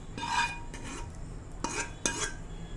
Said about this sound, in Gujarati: તો ચલો હવે આ બધો વઘાર ખીચડીમાં નાખી દઈશું